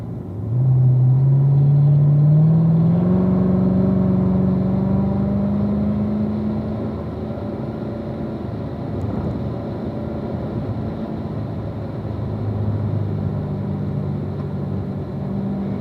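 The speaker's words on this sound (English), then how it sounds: "And then we can accelerate all the way down this straight." A car accelerates down a race track straight, its engine note rising steadily and loudly from near the start before settling into a sustained high rumble that holds to the end.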